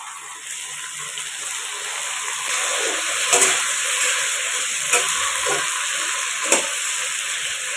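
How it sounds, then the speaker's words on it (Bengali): Tomatoes being stirred into potatoes frying in a pan, a steady sizzle with scraping stir strokes and a few sharp clacks of the utensil, close and fairly loud. "আলুটি ভাজা হওয়ার পর আমি দিয়ে দিলাম টমেটো টেমোটো দিয়ে একটু নাড়াচাড়া করব"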